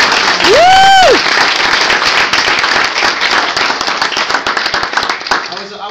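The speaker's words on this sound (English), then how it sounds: "round of applause" Audience applause and cheering at a Bison Bunch event, dense clapping continuing for several seconds with a loud whistle near the start, tapering slightly toward the end.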